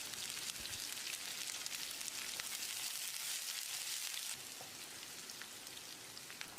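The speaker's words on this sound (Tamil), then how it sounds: "நீல வாக்கில் நறுக்கின 2 பெரிய வெங்காயத்தை போட்டுடலாம்." Two large onions sliced lengthwise fry in hot oil in a pan, giving a continuous crackling sizzle that eases slightly partway through.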